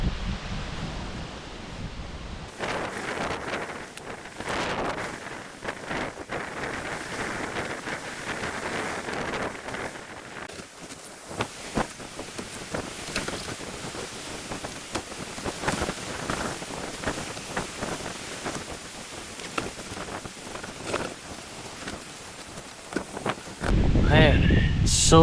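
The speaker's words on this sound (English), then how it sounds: "Man, it's so windy. So windy right now." Strong gusty wind buffets the microphone outdoors in Oklahoma at a wild campsite, a rough, continuous roar with irregular thumps and surges, while someone talks over it for much of the stretch.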